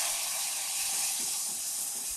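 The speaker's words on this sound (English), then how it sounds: "once your flour starts to get nice and toasty, just slowly drizzle in that almond milk" Almond milk is slowly drizzled into flour toasting in a pan and gives a steady, even sizzle and hiss. The sound stays close and constant, with no voices over it.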